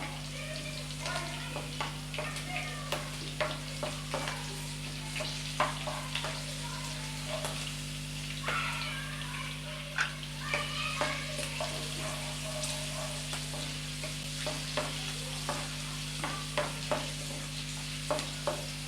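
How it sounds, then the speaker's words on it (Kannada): Chopped green chillies crackling in hot oil until crisp for North Karnataka paper poha, a soft steady sizzle with scattered sharp pops and spoon clicks over a low steady hum. "ಕಟ್ ಮಾಡಿರುವಂಥ ಹಸಿಮೆಣಸಿನ್ಕಾಯನ್ನು ಹಾಕಿ ಚೆನ್ನಾಗಿ ಸ್ವಲ್ಪ ಕಡಕ್ ಆಗೋವರೆಗೂ ಚೆನ್ನಾಗಿ ಹುರ್ಕೊಳ್ಳೋಣ"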